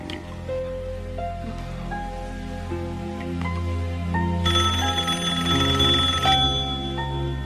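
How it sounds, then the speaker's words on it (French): A telephone rings repeatedly indoors during a tense domestic scene in a French-dubbed horror anthology episode, its bell sounding over a sustained low musical score, steady and moderately loud. "Non, ne réponds pas. C'est forcément Alan, je lui ai demandé d'appeler. Laisse sonner."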